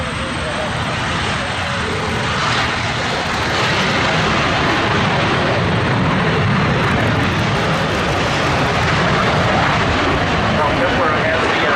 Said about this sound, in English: So you can watch right now the F-86 on the takeoff roll.